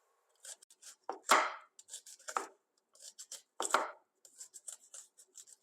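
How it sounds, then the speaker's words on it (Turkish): A red onion sliced into rings with a knife on a board: a series of crisp, close cuts in irregular bursts, some sharp and louder, others soft and papery, with quiet gaps between them. "Hemen bunu halka halka doğruyorum."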